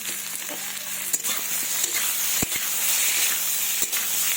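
Panch phoron seeds sizzle in hot oil in a pan, giving a loud, steady frying hiss with faint crackles and small pops throughout.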